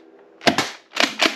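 Toy Nerf blaster firing balls, a sharp pop-and-thump shot followed by more quick snapping bursts in a short cluster, close and fairly loud, with no voices.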